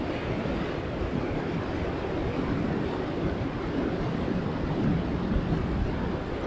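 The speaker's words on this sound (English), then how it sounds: "Ooh, there's some more waves." Ocean waves washing over rocks on the Esperance coast in Western Australia at sunset, a continuous moderate roar of surf with no distinct breaks, fairly distant and steady.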